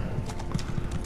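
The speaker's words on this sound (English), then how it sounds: "I want to get on my horse and we'll ride over here" Horse hooves clip-clop steadily as a player rides a mount in The Elder Scrolls Online, a regular loping beat of muffled footfalls up close with a faint game ambience underneath.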